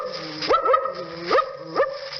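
A voice imitates a suspicious dog, giving a few wary barks and rising yelps in quick bursts, close and clear, as an old radio studio demonstration for a live audience.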